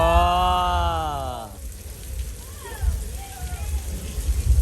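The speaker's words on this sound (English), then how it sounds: "That rain you see is created by shooting water straight up into the air" A long tonal sound fades out, then steady artificial rain, made by shooting water straight up into the air on a Universal Studios Hollywood set, patters and splashes down, with faint voices and low rumbling underneath.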